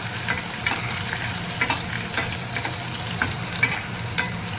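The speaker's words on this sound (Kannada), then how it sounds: "ಇದಕ್ಕೆ ನಾನು ಸ್ವಲ್ಪ ಬೆಳ್ಳುಳ್ಳಿದು ಹಸಿ ವಾಸನೆ ಹೋಗೋ ತನಕ ಸ್ವಲ್ಪ ಫ್ರೈ ಮಾಡ್ಕೊರಿ" Garlic fries in oil in a pan for tomato rice bath, giving a steady close sizzle broken by regular scraping and clinking taps as it is stirred, with no talking.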